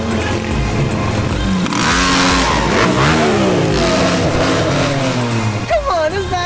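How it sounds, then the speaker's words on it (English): A McLaren revs hard in a rev-off outside a body shop, loud rising and falling engine bursts close by, with voices talking over parts of it. "We did a rev off."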